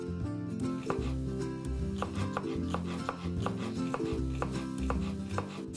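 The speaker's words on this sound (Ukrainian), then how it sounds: "Нарізаю зелену цибулю." Green onion is sliced with a knife on a cutting board for a chicken fricassee. The blade gives quick, evenly spaced taps that sound close and crisp over a low kitchen hum, with no speech.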